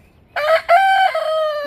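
White rooster crowing once nearby, a loud clear cock-a-doodle-doo in two quick parts with a long drawn-out final note.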